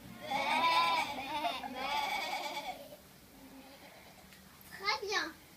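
A school class of children imitates a sheep's bleat with two long wavering group cries, then a shorter, higher bleat near the end; the bleats are all voiced by the children.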